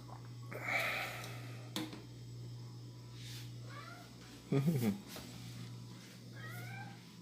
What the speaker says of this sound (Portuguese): É o gato com manha